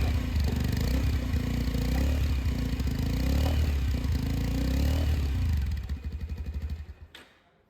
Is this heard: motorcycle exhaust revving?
yes